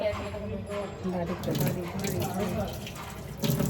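Tap water runs and splashes in a sink while crab eggs are carefully rinsed, a steady moderate wash under continuous talk.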